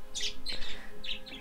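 Pet birds chirp and squawk indoors in several short, bright bursts, fairly close and loud, with brief pauses between calls and no talking.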